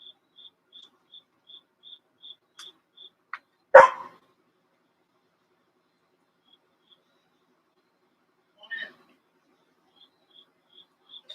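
A big dog gives a single loud bark, followed some seconds later by a fainter second bark, while insects or crickets chirp steadily in regular pulses throughout a quiet background.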